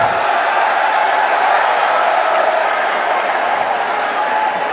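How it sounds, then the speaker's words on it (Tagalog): A basketball arena crowd at an MPBL game between Bacolod and Pampanga cheers and applauds a play, a dense, steady roar of clapping and shouting that fills the space with no letup. "And that crowd reacting to this play"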